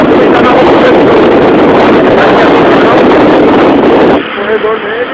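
Stop-and-go city traffic on Corredor Pedro Bueno, a dense, loud, continuous roar of vehicles and wind close by that drops off sharply near the end to a quieter street hum.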